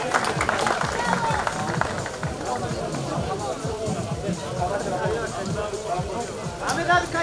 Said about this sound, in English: maybe some more applause for Ognjen